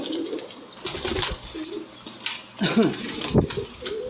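Fancy and racing pigeons flap their wings in quick bursts nearby, with soft cooing calls in between and a faint high whistle in the background.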